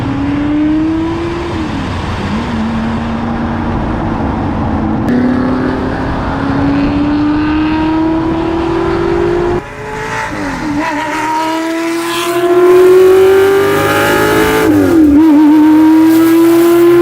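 A Shelby GT350 engine revs loudly and continuously up close while driving through canyons, pitch rising and dropping through gear changes with no talking.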